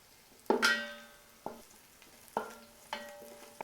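Green chilli, garlic and curry leaves frying in a pan for gooseberry pickle: four bright metallic clinks of a spoon striking the pan, each ringing briefly over a faint, quiet sizzle.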